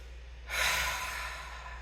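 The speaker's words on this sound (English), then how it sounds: "take a nice inhale here and exhale it out your mouth" A single breathy exhale out through the mouth during a seated yoga twist, starting after a brief quiet moment and trailing off softly over about a second, close and alone with no talk.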